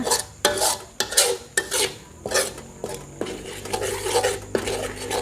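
Green curry paste for Thai chicken green curry is stir-fried slowly in a pan, producing loud close scraping strokes of a utensil against metal in a steady rhythm, with a soft sizzle underneath.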